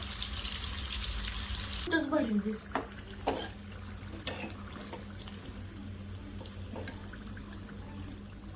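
Chicken fingers deep-frying in hot oil give a steady close sizzle and crackle with some sputtering pops early on, and someone talks over part of it.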